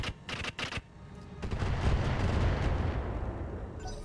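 A volley of standard LRM missiles fires in the RogueTech mech game: several sharp launch bursts open, then a dense, sustained rumbling roar of impacts swells loudly and fades.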